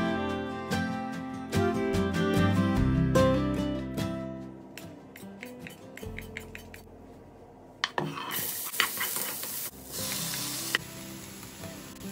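Plantain cooks in olive oil with dried shrimp, crayfish and a green chili, sizzling loudly while a spoon clatters and stirs in the pan, ending in brighter bursts of frying hiss.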